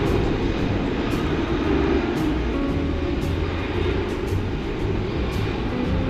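A Boeing 777-200 airliner bound for Honolulu roars at night at DFW Airport, a broad, continuous jet rumble that stays loud and steady throughout, with faint ticking clicks above it and no talking.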